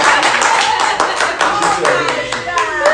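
An audience claps in a dense, loud burst of applause that carries on throughout, with voices talking over it.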